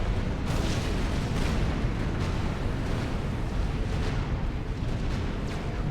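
Bombing in the strategy game Supreme Commander: Forged Alliance, a dense, continuous rumble of overlapping explosions and booms, loud and sustained throughout.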